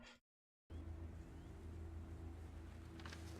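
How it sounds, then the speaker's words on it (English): Blizzard wind in the video game Outloper, a steady low roaring howl that cuts out briefly near the start and then returns at an even level, with no talking. "It's just really windy."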